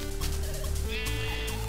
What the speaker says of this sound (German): Was haben wir da? Ein Schaf.